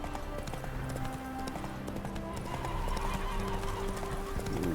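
Horse hooves clip-clop steadily at a gallop in The Witcher 3: Wild Hunt, with a neigh mixed in over continuous game ambience and music; the rhythm runs unbroken throughout.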